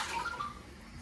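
Water pours briefly into a pot of Romanian tripe soup on the stove, a short steady splash heard up close with no talking.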